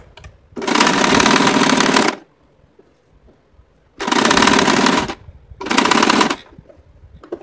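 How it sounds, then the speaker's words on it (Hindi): Electric sewing machine stitching lining fabric for a homemade bag, heard in three loud bursts of rapid mechanical clatter, the first about 1.5 seconds long, then two shorter runs, separated by quiet pauses. "अस्तर के कपड़े पे उल्टा रख के सिल रहे हैं पूरा"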